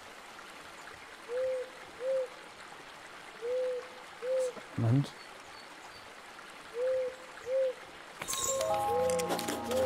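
An owl hooting in the video game Eastshade: soft paired hoots repeat several times over a quiet running-water ambience, with a brief voice in the middle and a burst of game sound at the end.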